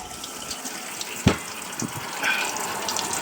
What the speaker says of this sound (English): So we turn the tap on.